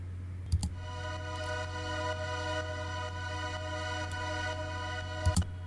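A string synth preset from the Synth Master 1 plugin holds a quiet, steady sustained chord over a low electrical hum, with a few faint clicks near the start and end.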